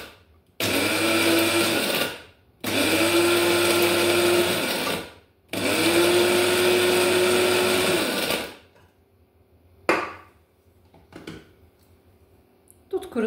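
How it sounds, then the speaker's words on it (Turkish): Dried mulberries ground to powder in an electric grinder, three loud close whirring bursts of a few seconds each with short pauses, followed by a few faint knocks. "Dut kurusunu bu şekilde makineden geçirdim."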